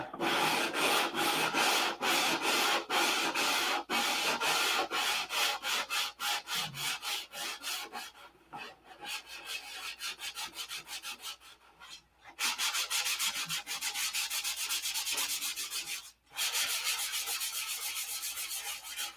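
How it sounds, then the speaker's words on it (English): Hand sanding of a P-47 aircraft model with coarse 180-grit sandpaper, a loud close rhythm of rapid back-and-forth rasping strokes in bursts with brief pauses between them. "I was sanding with 180 instead of 320 on this paper."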